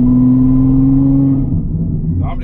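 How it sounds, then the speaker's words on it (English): A straight-piped Ferrari F12 with a 730-horsepower V12 gives a loud, close, deep exhaust drone that holds steady, then eases into a lower rumble near the end. "this is a V12, 730 horsepower, more with the exhaust"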